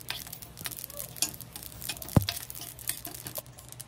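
Coriander seeds and sesame seeds dry-roasting in a pan for a village-style mint chutney, giving faint, soft sizzling and light pattering rattles as they are stirred, with one sharper clack partway through.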